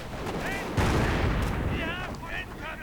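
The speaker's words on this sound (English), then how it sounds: "And artillery getting called in all of this." Artillery shelling and gunfire in a strategy video game battle, with grenadier infantry under fire: a dense, continuous roar of booming blasts and rattling shots, loudest in the middle, with high whistling streaks of incoming shells layered over the din.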